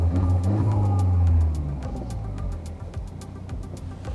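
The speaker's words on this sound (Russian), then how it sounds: "Слышно так же, как и на японцах, турбину." A Mercedes 1.6 turbo engine revs loudly with a deep burble that settles into a steady idle, faint turbo whoosh and clicks over it.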